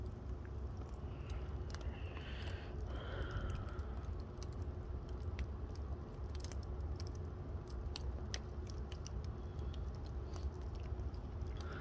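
A campfire burning at night with steady, close, sharp crackles and pops scattered over a continuous low rumble, no talking.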